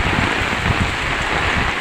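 Heavy rain falls in a continuous, even roar of water hitting surfaces, loud and close with no gaps, alone without talk.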